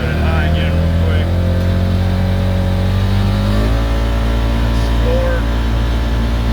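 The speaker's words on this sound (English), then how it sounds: "I am loving this engine braking" A 2016 Polaris Ranger 900XP High Lifter Edition UTV engine braking, a loud, steady mid-pitched drone with a falling-then-rising tone, close by and continuous, with a voice talking over it.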